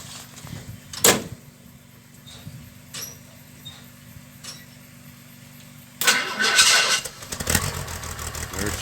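A 1961 narrow gauge Bombardier engine cold starts after a few scattered knocks, then fires up and runs loud and close, roughly revving over the last few seconds.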